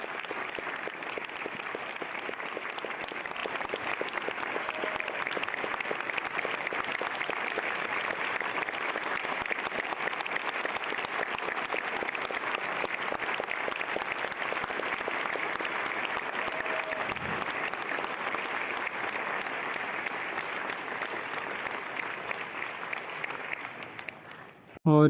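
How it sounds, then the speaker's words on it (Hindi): A large crowd at a Mahashivratri festival applauds Acharya Prashant's arrival, a sustained, even roar of clapping lasting over twenty seconds before fading, then a sudden loud burst at the end. "तालियों से उनका स्वागत करते हैं।"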